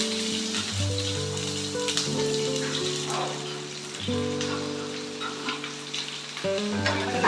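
Shallots and green chillies frying in hot oil in a pan, a continuous close sizzle with light crackling and some faint clinks, steady in loudness and unaccompanied by speech.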